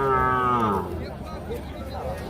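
A small calf moos once in a long, harmonic call at a busy cattle fair, close and fairly loud at first, then fading into a murmur of crowd noise.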